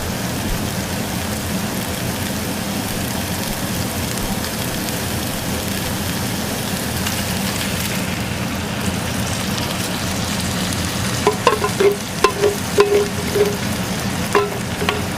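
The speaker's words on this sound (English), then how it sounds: "I'm going to add half a bag of frozen pepper and onion stir-fry mixture." Frozen pepper and onion stir-fry mix sizzles steadily in a hot pan, a continuous close frying hiss throughout, joined near the end by a few sharp clinks and scrapes of a utensil against the pan.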